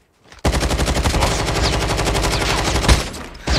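Rapid automatic gunfire in the mobile shooter game Call of Duty Mobile, a loud continuous burst of dense shots lasting a few seconds after a brief quiet start.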